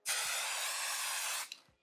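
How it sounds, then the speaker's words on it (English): Spray baste adhesive hisses from an aerosol can onto fabric in one steady, close burst of about a second and a half, followed by a couple of faint clicks. "I'm gonna spray baste it in there."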